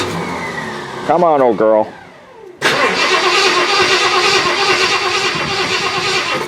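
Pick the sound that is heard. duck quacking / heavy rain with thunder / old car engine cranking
old car engine cranking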